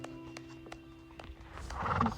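A mare being saddled gives a clear neigh building toward the end of the short stretch, preceded by quiet stable sounds and faint knocks, close by and with no talking.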